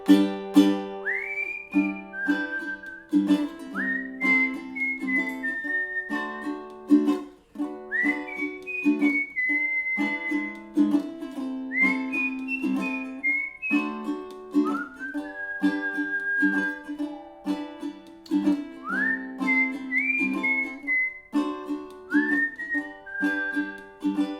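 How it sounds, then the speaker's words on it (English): People whistling an instrumental during an online ukulele play-along, a melodic whistled line with sliding notes over soft strummed ukulele chords, clear and close. "Let's hum or whistle the instrumental."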